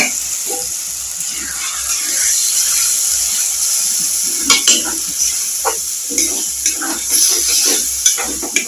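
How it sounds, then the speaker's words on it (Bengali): Batter poured into cumin seeds frying in hot oil hisses with a steady sizzle, broken by scraping stirring strokes and clinks, with a low rhythmic thump running underneath throughout. "এবার আমি ব্যাটারটা জিরের মধ্যে দিয়ে দেব।"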